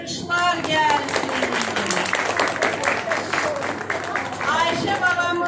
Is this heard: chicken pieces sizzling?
no